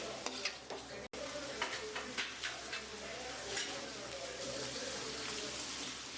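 Sliced onions sauté in masala for mutton biryani, a close, continuous sizzle with rhythmic spatula stirs and scrapes against the pot; clicks cluster early, then the frying settles into an even hiss.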